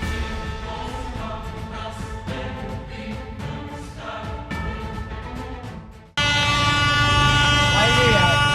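A loud sustained horn blasts at a level crossing after a stretch of busy road and vehicle noise, the horn holding steady and strong to the end.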